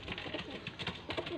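Pigeons coo nearby in soft, repeated throaty calls, several birds overlapping in a continuous murmur.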